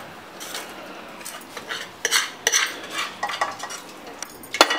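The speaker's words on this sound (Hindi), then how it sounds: "हमारा तड़का बनके एकदम तैयार है, अब हम इसे ट्रांसफर कर देंगे कुकर में।" Metal spoon scraping and clinking against a pan as tempering for rajma is scooped into a pressure cooker, a run of uneven knocks and scrapes, close by.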